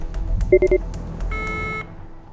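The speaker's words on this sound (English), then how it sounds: "we heard the buzzer there" A short run of electronic beeps, then a sustained buzzing tone lasting about half a second, fairly loud over a quiet background, at a high school quiz bowl match.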